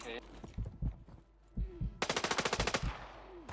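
Gunshots crack in a video game, first a few scattered shots among talk, then a rapid burst of about a dozen evenly spaced loud reports, close and sharp.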